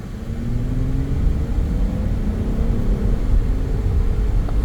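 A 2001 Mazda MPV minivan pulling away, a loud close engine drone with a gently rising pitch as it accelerates, steady rumble throughout.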